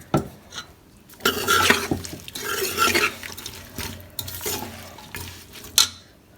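A spoon scrapes and stirs through salt, ginger and spices in a metal pot for chicken curry, giving a steady run of clinks and gritty rustles with a few sharper taps near the end.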